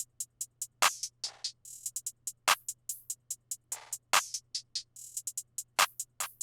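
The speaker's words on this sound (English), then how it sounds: "After the clap, guys, we have the hi-hat, which is going to sound like this." A crisp, bright hi-hat pattern ticks in a steady rhythm, punctuated by regular sharp claps and short swishy bursts, all dry and close, in a hip-hop type beat.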